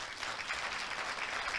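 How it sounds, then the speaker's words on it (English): A large crowd of international students at a Korea University winter campus orientation claps in a brief, steady burst of applause, even and moderately loud throughout. "Let's give each other a big round of applause."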